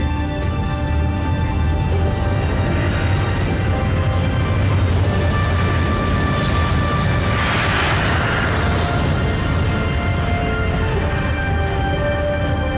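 Steady, loud drone of an airplane engine in flight at about 3000 metres before a skydive, a constant dense roar with harmonic hum filling the whole stretch, no talk over it.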